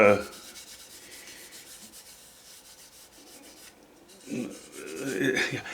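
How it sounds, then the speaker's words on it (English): Oil is rubbed onto wood by hand as a single coat, a soft scratchy rubbing that stays faint through the middle and swells into louder, rougher strokes near the end. "I'm only going to give it 1 coat of oil."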